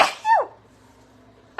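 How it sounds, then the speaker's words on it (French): A single sharp, close sneeze from someone with a cold, with a quick inhale and explosive burst, followed by quiet and the start of another burst at the very end. "Je vais éternuer."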